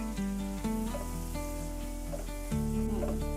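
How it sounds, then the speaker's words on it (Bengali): Cumin, salt, turmeric and coriander powder fry in a pan with tomato, giving a steady sizzle and crackle with a few spatula scrapes and stirs, close and continuous with no talk. "এক চামচ দিয়ে দিচ্ছি হলুদ গুঁড়ো ভালো করে কষিয়ে নিতে হবে"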